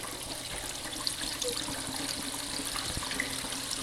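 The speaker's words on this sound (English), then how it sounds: "water will start to fall through both the first and second drains" Steady rushing and splashing of water dropping through two aquarium overflow drains in a BeanAnimal-style overflow during startup, a continuous close, loud wash with a few faint knocks and gurgles mixed in and no one talking.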